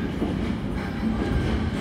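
A passenger train pulls out of Da Nang station heading north toward Hanoi, with a steady close rumble of wagons and a faint rhythmic clack of the wheels throughout.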